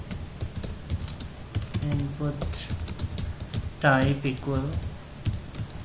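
Keystrokes tap away on a computer keyboard while someone types code, the clicks scattered and close, with someone talking over them for much of the time.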